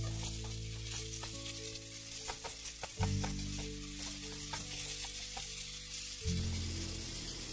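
Sausage browns in oil in a skillet with a steady, close sizzle and crackle, punctuated by small pops and a constant low hum underneath.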